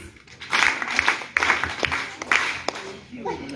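Audience clapping during a school prize-giving speech, a few scattered bursts of hand claps rising and falling close by, with voices talking over them.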